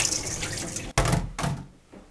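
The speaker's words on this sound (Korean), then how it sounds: "정확하게 쌀을 재서 400ml, 물도 똑같이 1대1로 넣을 건데 지금은 한번 씻어 주겠습니다." Tap water runs and splashes as rice is rinsed for cooking in a Staub cast-iron pot, with brief interruptions and clatter before the flow fades near the end.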